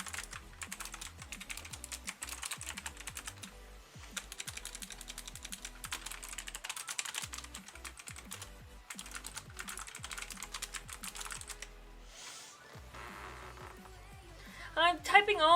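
Rapid continuous typing on a computer keyboard while coding, dense bursts of close, crisp key clicks with brief pauses, fading to quieter clatter near the end.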